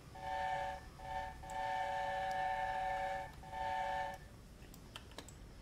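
The chime-like steam whistle of the locomotive Mallard in a video game blows in four sustained blasts with brief breaks between, fairly loud, then gives way to low rumble and light clicks.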